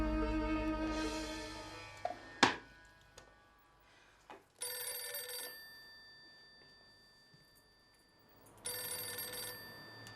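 A telephone rings out as a call is placed, with two bright ringing bursts separated by a few seconds of quiet, moderately faint and with no talking over it.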